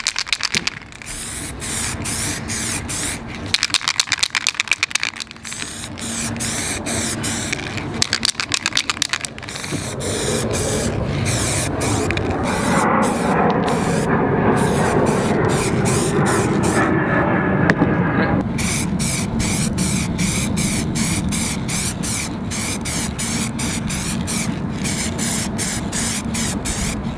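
Montana metallic effect spray paint hisses from a can in a series of short bursts, then one long continuous spray followed by rapid repeated short sprays. The hiss is close and loud, with no talk.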